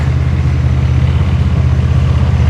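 A Chevy Blazer S10 truck engine idles steadily nearby, a constant low rumble with no change in rhythm and no talking over it.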